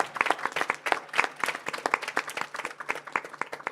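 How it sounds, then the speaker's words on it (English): Applause for a medical college panel at Essence Fest 2024, many hands clapping in a lively, uneven patter, close and fairly loud, holding steady throughout. "Could you give a special hand of applause to this exceptional panel?"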